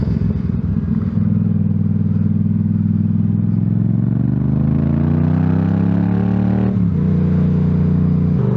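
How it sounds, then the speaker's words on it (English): A Yamaha motorcycle with a loud aftermarket exhaust drones steadily, its deep exhaust note rising in pitch as it accelerates, then dropping with a gear shift near the end. "this has to be an aftermarket exhaust. It is so loud."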